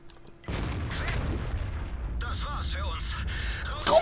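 A heavy tank cannon shot in World of Tanks booms loudly and is followed by rumbling battle effects, with voices speaking over the later part.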